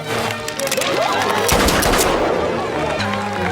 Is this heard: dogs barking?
no